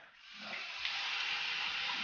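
Water runs steadily from a hose or tap during a horse's bath, a continuous close hiss that swells slightly after a soft start, with no talking.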